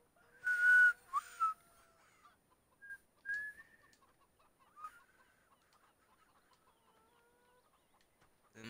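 Chickens at a coop in the Farming Simulator 17 video game cluck in a few short, sparse bursts, with quiet gaps between the calls.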